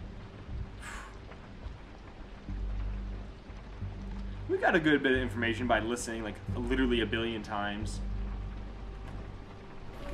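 Steady rain falls in The Walking Dead Season 2 video game, a soft constant hiss in the background while someone talks over it for much of the clip.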